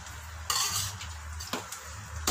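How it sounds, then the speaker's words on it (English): A pot of biryani being given a small stir at home: a few close scraping, clattering strokes of a spoon against the pot, each with a brief burst of noise, over a low steady background hum. "You just give it a small mix."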